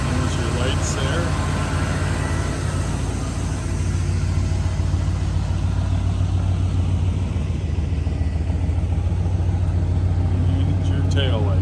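A 1978 GMC Jimmy engine runs smoothly at a steady idle, a continuous low rumble close by throughout, with someone talking over it.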